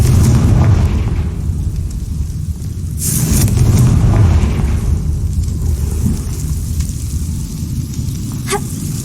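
A Confringo fire-blast spell in Hogwarts Legacy erupts as a loud, rumbling explosion, with a sharp burst partway through and a heavy roar that carries on to the end.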